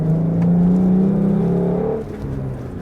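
A Jeep engine fitted with a cold air intake revs hard at wide open throttle, a loud, close, rising drone that holds steady, then drops off sharply near the end as the throttle is released.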